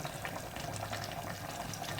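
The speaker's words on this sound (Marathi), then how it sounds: "भांडं धुवून घेतलं होतं त्याचं पाणी घालून घेणार" Rinse water from a washed vessel poured into a pot of mutton cooking for dum biryani, a steady continuous liquid gush and bubbling throughout, close and alone with no talk.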